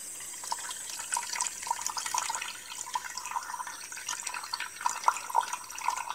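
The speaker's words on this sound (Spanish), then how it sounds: "ahora voy a lavar tu cabello" Water runs and trickles steadily for hair washing at a toy beauty salon, a soft continuous splashing flow with small drips and gurgles, fairly quiet and with no talking.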